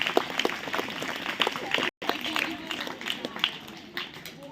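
Schoolchildren in a classroom or assembly clap to welcome a visiting speaker, a busy mass of claps running throughout with a brief dropout midway, moderately loud and fairly near.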